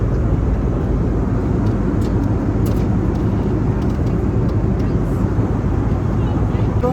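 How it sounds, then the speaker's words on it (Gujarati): Steady, loud cabin drone of an airliner in flight between Delhi and Vadodara, a constant deep roar with no breaks. "ઉડી રહ્યું છે વિમાન, મસ્ત મજા આવે છે"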